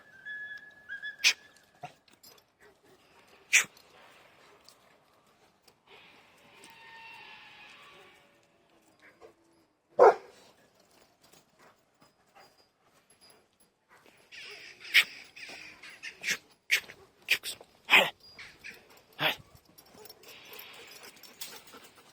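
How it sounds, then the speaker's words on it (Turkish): A dog barks in scattered sharp bursts at a distance, with quiet gaps and faint rustling between, growing busier toward the end. "Dedemin köpeği havlıyor arkadaşlar."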